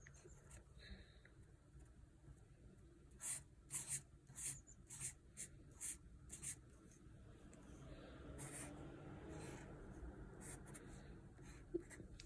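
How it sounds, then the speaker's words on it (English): A pen scratches across paper in short, quick strokes with brief pauses, drawing a picture for a dentist-themed writing prompt, close and fairly faint with no talking over it. "So I'm going to draw a picture."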